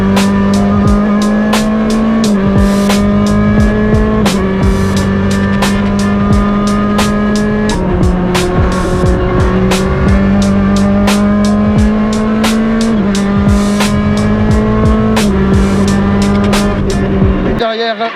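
A rally car at full speed on a stage, engine revving hard and dropping sharply at each gearshift, with repeated tire and gravel noise; a co-driver's voice runs over it throughout.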